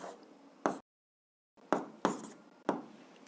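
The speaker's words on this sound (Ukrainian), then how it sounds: "ми пишемо P з індексом B знак питання." Pen strokes on paper while working out a physics problem: four short scratchy bursts with a pause of silence after the first, close and fairly quiet, no voices.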